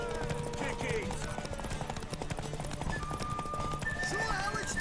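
Horse hooves clip-clopping in The Witcher 3: Wild Hunt, a steady rhythmic patter under game ambience with voices talking and a brief whinny.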